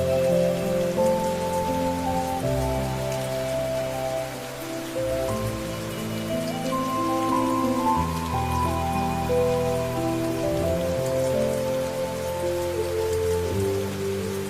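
Steady heavy rain falls continuously on surfaces, a dense even hiss that lasts throughout, mixed with sustained tonal sounds in the background.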